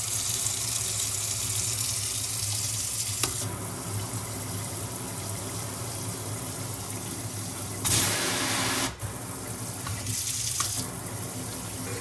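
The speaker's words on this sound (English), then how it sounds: "The main faucet has 3 different flow options." Water runs steadily from a Lefton KS2207 waterfall kitchen faucet into the sink, a continuous hiss that shifts in character a few times, apparently between flow options, with brief breaks.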